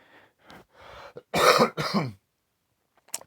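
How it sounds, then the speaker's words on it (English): Two harsh, raspy coughs from a respiratory virus, bringing up phlegm from the lungs, close to the mic, preceded by quiet muttering and followed by a brief sharp sound. "that cough was me coughing up some of the stuff from my lungs"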